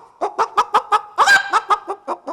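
A human voice imitates a rooster with a quick, rhythmic run of about a dozen loud, close clucking calls, one longer, strained call breaking up the series midway.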